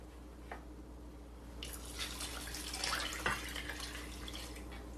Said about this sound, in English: we're going to add another 4 cups of water.